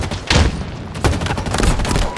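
Bursts of rapid automatic gunfire from a sci-fi shooter game weapon, loud close crackling volleys in two clusters.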